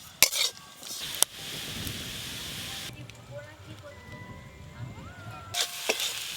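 Grated coconut and jaggery are stirred in a pan, making soft scraping and light sizzling with a few sharp clinks at the pan's edge, and faint background voices in the middle.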